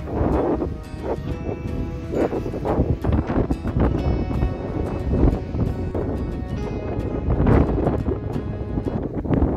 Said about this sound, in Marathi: वारा आहे, जबरदस्त वारा आहे।